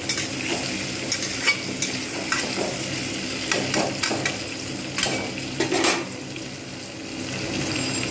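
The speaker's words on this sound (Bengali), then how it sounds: "ঢাকনা দিয়ে রেখে দেবো, একসঙ্গে সব ভাজা হয়ে যাবে।" Potatoes, ridge gourd and onion fry in a pan with a steady sizzle, broken by intermittent scraping and clinks of a spatula stirring against the metal.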